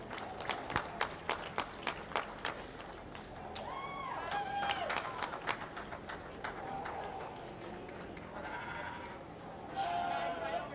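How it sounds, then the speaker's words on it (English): Audience claps and cheers for youth exhibitors at a sheep show with blackface market lambs, applause swelling in bursts while sheep bleat nearby and an announcer talks over the noise. "give these kids one last round of applause"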